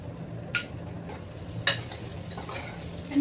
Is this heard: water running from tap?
no